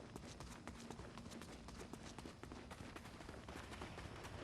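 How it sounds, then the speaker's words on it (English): Rapid gunfire in a video game, a dense, continuous burst of sharp cracks that holds at a steady level throughout, with no talking. "Oh, gunfire."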